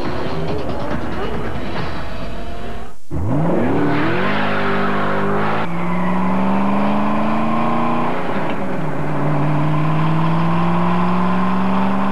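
Champ Car race cars at the 2006 Edmonton street race, loud high-revving engines passing close with rising and falling pitch, gear shifts and a brief cutout, one car blasting by after another.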